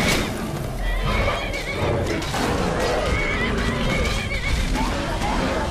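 A horse neighs loudly and repeatedly in a Skyrim play session, with hoof clip-clops and dense game noise running throughout.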